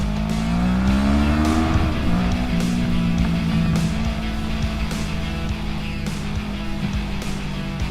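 Car driving through Arizona city streets on a windy day, with a loud, steady engine drone, tire and road noise, and a rising and falling engine tone near the start, continuous throughout.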